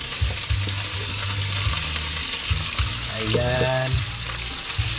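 Meat hits a hot pan for adobong talong, a steady loud frying sizzle with stirring scrapes and a brief burst of rattling in the middle; a voice speaks briefly.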